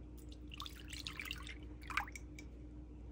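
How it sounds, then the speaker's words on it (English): Milk poured from a container into a bowl for bread roll dough, giving a soft, steady trickle with a few bright splashes over a quiet kitchen hum. "we're gonna pour the milk"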